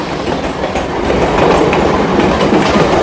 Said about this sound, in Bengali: এটা হচ্ছে ডাউন কৃষ্ণনগর লোকাল